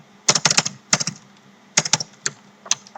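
Keys clatter on a computer keyboard while a PostgreSQL table is typed in psql, a quick close burst of clicks, a pause, then more clustered keystrokes and a lone final tap.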